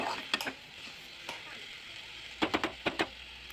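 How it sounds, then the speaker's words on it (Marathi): Green chickpeas are stir-fried with salt in a hot pan: a soft sizzle runs throughout, with bursts of spatula scraping and clattering, heaviest in a quick cluster near the end. "छान त्या मिठामध्ये ही भाजी मिक्स करून घ्यायची आहे छान असं परतून घ्यायचं आहे"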